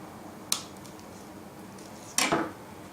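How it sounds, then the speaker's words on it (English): Avocados being chopped with a knife in a home kitchen during raw food prep: two sharp, close knife strikes with a crisp click, the second followed by a brief scraping slide, over quiet room noise. "Chopping up the avocados"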